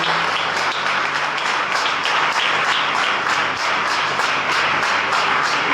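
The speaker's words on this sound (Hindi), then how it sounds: "यीशु मसीह की एक जोरदार स्तुति की तालियां देंगे हम लोग परमेश्वर को" Sustained loud applause from a church congregation at a Friday service, many hands clapping densely and evenly for the whole stretch, with no talk over it.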